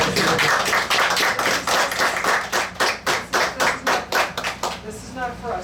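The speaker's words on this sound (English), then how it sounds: "I think this deserves a round of applause." An audience at a town board meeting applauds, at first as a crowded burst, then settling into loud, rhythmic unison clapping that tapers off near the end. Voices are mixed in with it.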